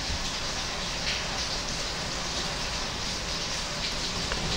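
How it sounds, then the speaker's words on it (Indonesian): Steady rain patters down in a dense, even wash of drops, constant throughout with no voices. "kita di video ini kita ditemani suara gemericik hujan ya, biar agak syahdu sedikit"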